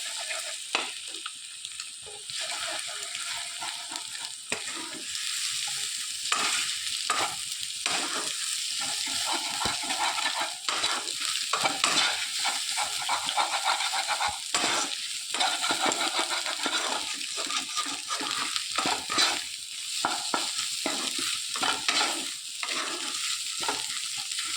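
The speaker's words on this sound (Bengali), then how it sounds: "দিয়ে ভালোভাবে নাড়িয়ে চাড়িয়ে মিক্স করে নেব ডিমটাকে।" Beaten eggs with a pinch of salt are stirred and scrambled in a frying pan for chowmein, giving a steady close sizzle broken by repeated scraping and clinking strokes of the spatula throughout, with no talking.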